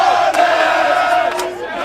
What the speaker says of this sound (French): conspué par la foule